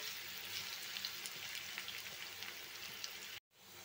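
Four medium onions fry in a pan for egg biryani, making a soft, continuous crackling hiss like light rain that cuts off abruptly near the end.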